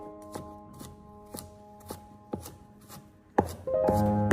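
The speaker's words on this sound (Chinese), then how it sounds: "最后再剁成蒜末。" A kitchen knife chops two garlic cloves into mince on a board, with about ten sharp, evenly spaced thuds that quicken and grow louder toward the end.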